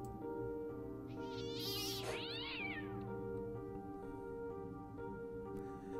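A single cat meow in the video game Fran Bow rises and falls clearly over a steady droning musical background, with no talking.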